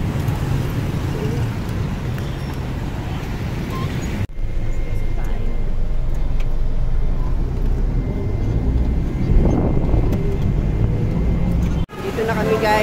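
Steady road rumble fills the inside of a public passenger vehicle moving through Manila traffic, continuous and fairly loud, with a brief break partway through.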